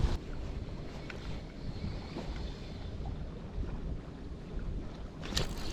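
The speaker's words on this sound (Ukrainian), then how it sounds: "Вітер заважає ловити просто капітально." Steady wind buffets the microphone with a low, rumbling roar outdoors on the Dnipro River while fishing, with no voices.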